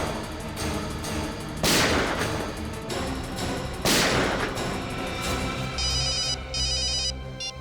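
A phone's electronic ringtone chirps in short repeated bursts near the end, following loud booming blasts that resemble gunfire, with no speech.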